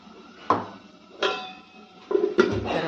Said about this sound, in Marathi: आणि आता आपण याच्यावर एक झाकण ठेवूया आणि त्याच्यात पाणी गरम करायला ठेवू